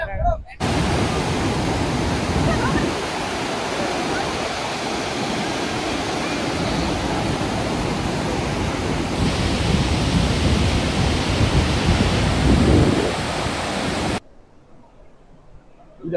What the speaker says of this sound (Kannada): ಬಟ್ ತುಂಬಾ ದೊಡ್ಡ ಫಾಲ್ಸ್